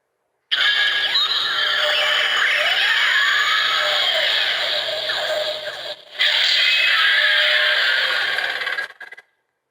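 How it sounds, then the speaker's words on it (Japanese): The appearance sound effect of a DX Trygalon monster toy from the Ultraman Omega Meteo Kaiju series: a loud, shrill, whinnying roar with gliding tones, lasting several seconds, breaking briefly, then resuming before cutting off. No voices. "トライガロンが登場した時のあの音だね"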